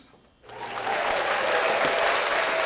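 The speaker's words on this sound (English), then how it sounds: "Let's clap that up for Urban X." Studio audience at a podcast recording breaking into clapping after a short quiet lead-in, the applause swelling quickly and holding steady and dense to the end.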